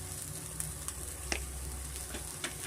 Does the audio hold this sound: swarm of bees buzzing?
no